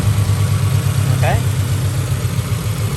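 A car engine fitted with a homemade cold air intake idles steadily with a low, even rumble throughout, while a voice says a single word over it.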